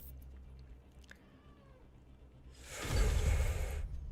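A cat gives a couple of faint, short meows in a quiet room, followed by a loud, close rustling whoosh that swells and then cuts off.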